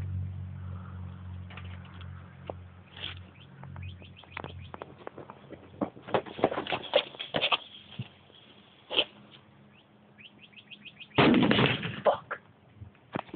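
Homemade cannon firing a marble at a full jug of water outdoors, a sharp loud burst late in the clip amid scattered clicks and bird chirps.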